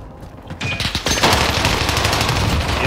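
Gunfire in a Resurgence match of a shooter video game using acid tracer rounds: loud, rapid bursts of automatic fire that start sparse and then rattle on densely, close and dominant.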